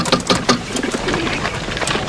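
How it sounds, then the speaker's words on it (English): Carrier pigeons coo loudly and close by, with several overlapping throaty calls in an irregular rhythm and no talk over them. "most of these birds look like they can fly halfway around the block"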